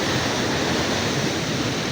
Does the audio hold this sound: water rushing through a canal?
yes